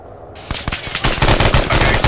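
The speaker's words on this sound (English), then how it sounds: "we're getting apparently sporadic AK fire that you probably already found to the west" Rapid bursts of AK rifle fire in the ArmA 3 military shooter game, loud and close, a few spaced shots building into a dense automatic volley.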